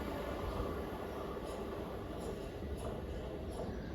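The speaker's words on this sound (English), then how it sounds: "coming past now is a service to Gillingham. It's formed of a 377." A Class 377 electric multiple unit passing as a service to Gillingham, a steady broadband rumble and rush of wheels and motors throughout, fairly close and even in level with faint periodic clicks.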